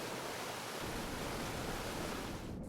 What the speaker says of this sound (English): How water flows?